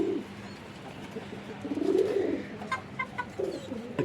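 A newly acquired non-local pigeon kept in Bangladesh coos softly, with a low murmuring call rising midway and a few brief throaty notes near the end, faint over a quiet background hum.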